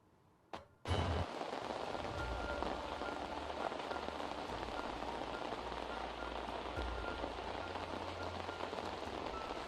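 Heavy rain pours down steadily at Dharmasthala, Karnataka, flooding the roads, a loud dense hiss of drops hitting surfaces after a brief knock at the start.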